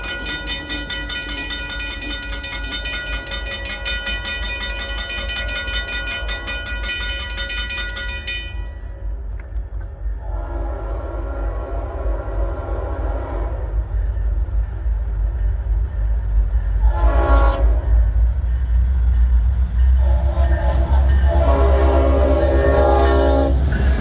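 Norfolk Southern freight train led by SD70AC and AC44C6M diesel locomotives, on the D&H line in February, sounds a loud sustained horn, then passes close with heavy engine rumble and steady rolling wheel and rail noise.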